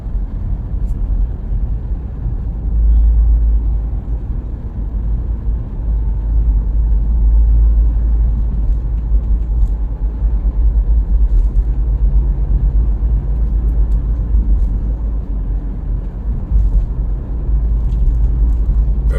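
Steady traffic rolling along the JORR W1 toll road in Jakarta, heading east toward Mampang Prapatan, with a continuous low rumble of car and bus engines and tyre noise close by throughout, no voices.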